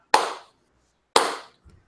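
Two sharp hand claps about a second apart, loud and close, each with a short ringing decay, followed by silence.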